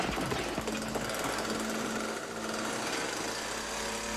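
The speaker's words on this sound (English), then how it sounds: "Did he just chainsaw through the door?" A chainsaw roars in a Scarface film scene, cutting through a door: a loud, continuous buzzing whine that holds steady for the whole few seconds without a break.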